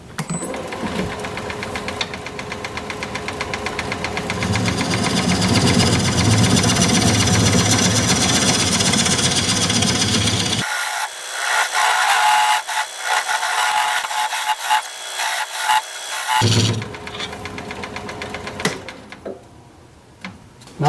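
A wood lathe cuts a recess into a turned wood piece, a loud, steady scraping whine that holds for about ten seconds, then drops to thinner, lighter cutting sounds and stops near the end.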